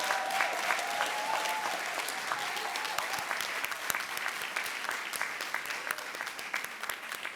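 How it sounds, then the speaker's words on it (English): A conference audience at a sustainability event breaks into sustained applause, dense overlapping claps holding at a steady, fairly loud level throughout with no voices standing out. "So please give them a loud round of applause."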